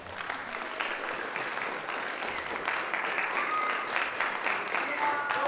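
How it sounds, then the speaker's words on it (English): Parents and families at a middle school winter concert receive a big round of applause, a sustained crowd clapping heard from a distance in a large hall, steady and fairly soft throughout. "Please give your parents, your family a big round of applause."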